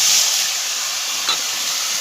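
Water poured into sautéing small chuno fish masala sets off a broad, steady hiss of sizzle and steam, loud at first and then holding even, with a faint click partway through.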